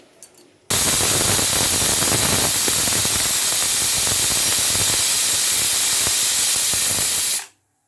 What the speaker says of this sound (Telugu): రెండు విజిల్స్ అయితే వచ్చినాయండి